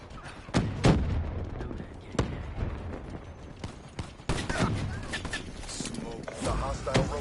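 A frag grenade blast in the video game Call of Duty Black Ops 3 booms amid sharp, scattered gunfire cracks and rumbling explosions during combat.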